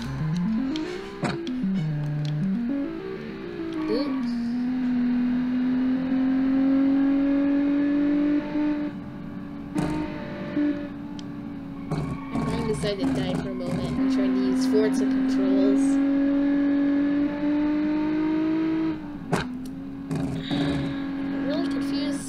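Car engine in the Automation driving game revving up and down with audible gear shifts, a steady droning tone that rises and dips over about twenty seconds, loud and continuous with a voice talking over it.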